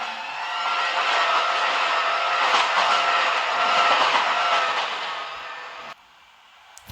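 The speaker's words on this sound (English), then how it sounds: "We have a Jubilee line stock, I believe, passing through platform number 2." A London Underground Jubilee line train passes through a station platform, a broad rushing roar that swells and holds for several seconds before cutting off abruptly, with no talking.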